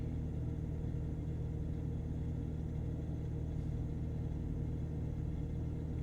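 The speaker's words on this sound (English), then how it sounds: "Yeah, that's the truck. That's because the truck is on." A parked truck with its engine running gives off a steady, low rumble and constant hum that stays even and unbroken, with no voices over it.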